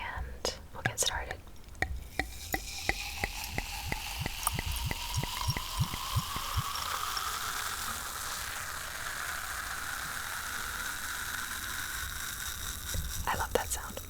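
Champagne from a mini bottle is poured into a champagne flute, opening with a gurgling glug and a run of crisp fizzing pops, then settling into a steady, rising hiss of bubbles, close and intimate, with no talking.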